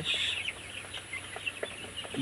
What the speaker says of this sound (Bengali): ব্রয়লার মুরগিকে